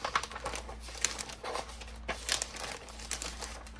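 A sheet of paper being handled while planning cuts for a journal ephemera holder, giving close crinkling and rustling with several brief crisp bursts, no talking.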